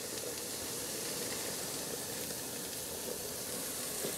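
Portable stainless steel pellet gasifier stove burning, a soft continuous broadband hiss with faint crackle, steady and even throughout, heard close but at low volume with nothing else over it.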